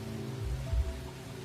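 Rain falls steadily on a surface during a night watch, a soft continuous patter with a low hum running beneath and one brief thump partway through, fairly quiet and without voices.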